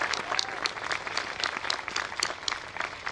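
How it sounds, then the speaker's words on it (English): Audience applause at a community college commencement ceremony, a steady, even wash of many hands clapping, moderately loud and continuous with no talking over it. "so give her a round of applause"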